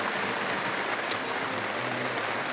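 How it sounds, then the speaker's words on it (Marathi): Heavy rain falls during a visit to a Ganapati temple, a steady, dense hiss of downpour on surfaces that stays even and fairly loud throughout, with no voices. "पाऊस जोरदार आहे"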